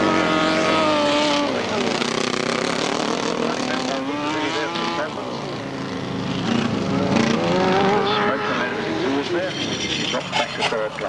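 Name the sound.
grasstrack racing sidecar motorcycles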